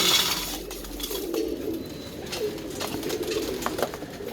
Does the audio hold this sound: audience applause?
no